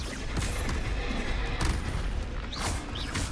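Rapid spell blasts in Hogwarts Legacy, the Bombarda and Confringo curses landing as loud, repeated booming bursts and crackles in a busy fight, one after another with no pause.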